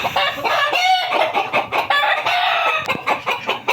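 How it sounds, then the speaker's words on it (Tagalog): Several chickens cluck and squawk loudly and agitatedly after rats ate their chicks, a close, continuous burst of excited calls with no talking. "nagagalit yung mga manok natin kasi itong mga daga na to kinain yung mga sisiw ng alaga ko"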